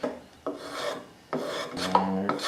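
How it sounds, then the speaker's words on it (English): A Veritas low angle spokeshave rounds over the edge of a wooden table leg in repeated rasping strokes, about four distinct scrapes with short pauses between, close and clear with no voices. "I've got this Veritas low angle spoke shave. And I just kind of keep working that way until I get a nice even rounded over profile"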